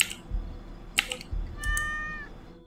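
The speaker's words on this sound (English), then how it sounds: "There's a cat here?" A cat in the DreadOut 2 video game gives a single drawn-out, clear meow that rises and then trails off. Scattered clicks and soft thuds that sound like keyboard tapping come just before it.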